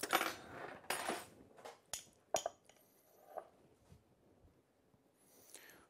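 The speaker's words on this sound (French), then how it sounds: "Donc je récupère une cuillère." Metal spoon clinking against other cutlery and dishes in a kitchen, several sharp separate clicks and rattles, close and fairly quiet, no talk, while cooking savoury cheesecake and Comté ham croques.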